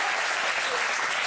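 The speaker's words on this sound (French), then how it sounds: "Quand il y a des applaudissements, on ne vous entend pas." Studio audience on a French television debate set applauds steadily and loudly, a dense continuous wash of clapping with no voices breaking through.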